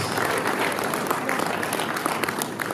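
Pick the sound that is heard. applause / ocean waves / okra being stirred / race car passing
applause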